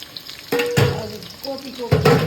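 Potatoes frying with a low sizzle, broken by a few louder bursts and scrapes of stirring in the pan, close by.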